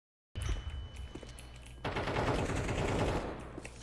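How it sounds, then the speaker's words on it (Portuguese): Rapid automatic gunfire from a video game rattles in dense bursts, intensifying midway through and staying loud and continuous to the end, with no talking. "eu parei de atirar pra não te matar, Sana"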